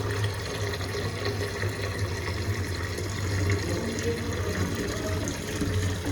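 Water is poured over potted plants, making a continuous splashing and trickling wash at an even level from start to finish.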